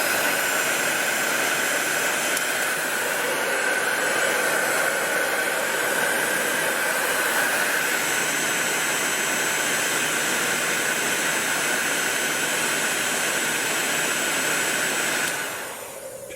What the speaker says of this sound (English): And then use your heat gun.